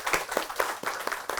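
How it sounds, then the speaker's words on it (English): A small lecture audience claps for a moment, a few distinct hand claps standing out over a sparse, moderately quiet patter in a brief burst. "Can we give him a round of applause, please?"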